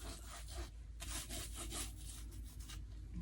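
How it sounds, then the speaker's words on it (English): A finger rubs acrylic paint across an abstract canvas, making a steady, faint, dry rasping friction that continues throughout with slight pulsing strokes and no talk. "we're gonna just kind of rub it with our finger"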